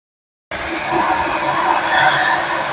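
A hair dryer switches on abruptly and blows steadily with a loud, airy whoosh, close by and uninterrupted.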